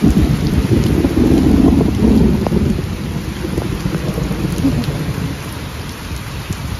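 Heavy rain pours steadily during Tropical Storm Fred, with wind gusting through it; a loud, dense roar near the listener that eases slightly toward the end, with no talking.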